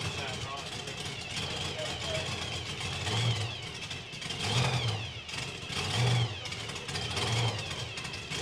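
A Nitro Funny Car engine at a drag racing event sputters and revs roughly in short bursts over a noisy background, with a steady low rumble and people talking nearby.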